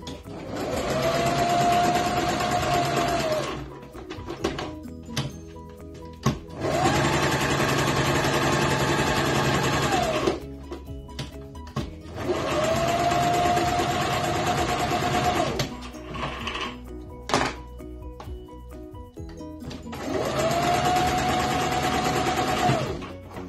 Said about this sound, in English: then we need to go and sew it on the machine.